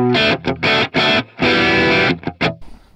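Electric guitar played through a Headrush MX5 multi-effects unit on a crunchy overdrive with no delay or reverb, loud dry chords struck in short bursts with brief gaps, the last ones cut off abruptly.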